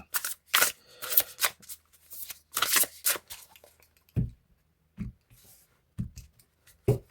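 Tarot-style cards for an astrology reading being shuffled and handled, bursts of crisp riffling early on, followed by separate soft slaps of cards laid down one at a time.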